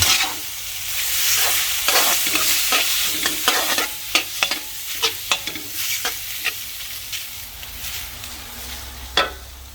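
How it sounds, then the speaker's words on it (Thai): Noodles being stir-fried in a hot pan, with a steady sizzle under repeated scraping and clattering strokes of a utensil, close up and fairly loud, with no talking. "เสร็จแล้วเราก็ใส่เส้น เราเตรียมไว้ลงไปผัดทุกเคล้าขันอย่างเมามัน"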